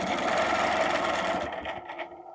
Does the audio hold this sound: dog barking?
no